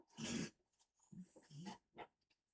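A pet dog growls and whimpers close by in a home room, giving a few short, rough throaty bursts separated by brief pauses.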